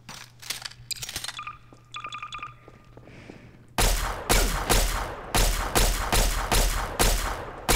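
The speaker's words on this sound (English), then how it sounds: "Next up is the laser pistol." A Fallout laser pistol fires in Garry's Mod, giving sharp zapping shots: a quick scattered burst of lighter blips, then a run of louder, evenly spaced blasts, close and alone with no talk.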